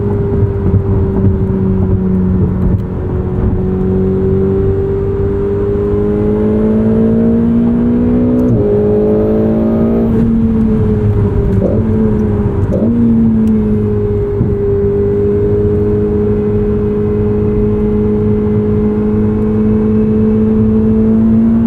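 A 2016 Ferrari 488 GTB engine pulls hard from the cabin while driving, a loud, steady droning roar whose pitch climbs, drops at a gear change and climbs again, with no voices.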